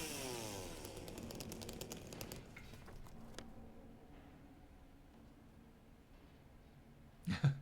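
A chainsaw in the Silent Hill 2 remake roars briefly, then winds down into a fading mechanical rumble and quiet tail, with a short burst of noise near the end.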